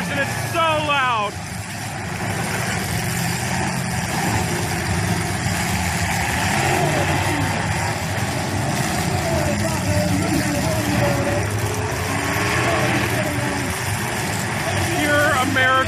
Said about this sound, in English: So many cars and it's so loud.